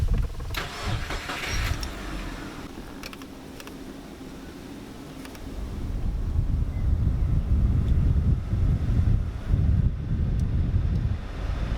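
A 2005 Subaru Forester's cabin ventilation fan blows air steadily, a broadband rushing hiss that grows louder and rougher about halfway through as the fan speed rises, with a few small clicks early on.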